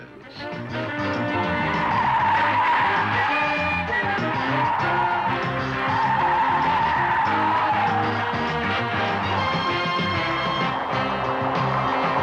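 A Rover SD1 driven hard in 1970s promotional footage, tyres squealing and skidding in a long continuous screech over the engine, loud and sustained for about twelve seconds with the slightly muffled quality of an old film soundtrack.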